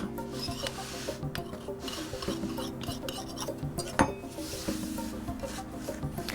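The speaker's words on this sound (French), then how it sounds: "je tranche de l'intérieur vers l'extérieur pour enlever tous les résidus de pâte" Knife blade scraping and slicing off excess shortcrust pastry around the rim of a metal tart ring, a close, quiet, steady rasping with one sharper click.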